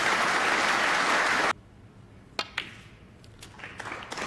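Snooker crowd at the UK Championship applauding a frame-ball shot, a loud, dense burst of clapping that fills the hall for about a second and a half, then cuts off into near quiet with a few scattered taps.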